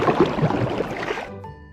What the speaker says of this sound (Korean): 연못 속으로 뛰어들어요.